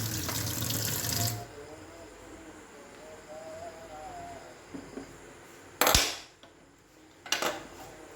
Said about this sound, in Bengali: হালকা করে একটু জল দিয়ে ধুয়ে নেবো